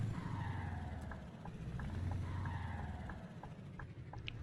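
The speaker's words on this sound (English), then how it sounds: "The truck's quite loud." A low, steady truck engine drone from Euro Truck Simulator 2, held at a constant level, with small intermittent clicks and blips over it.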